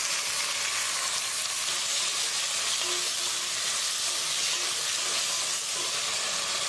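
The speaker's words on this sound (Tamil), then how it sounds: "வெங்காயம் தக்காளி நல்லா வதங்கிடுச்சு." Chopped onions and tomatoes sauté in a pan for a fenugreek curry, giving a steady, close, even sizzle with a broad hiss and no talking.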